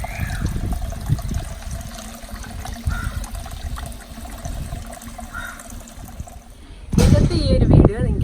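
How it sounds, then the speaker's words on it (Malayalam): Water circulates from top to bottom of a homemade outdoor fountain, a continuous trickling and splashing flow with someone talking over it, the water surging louder near the end. "ഈ ടോപ്പിൽ നിന്ന് താഴെ വരെ വെള്ളം സർക്കുലേറ്റ് ചെയ്ത് പോകുന്നതാണ്"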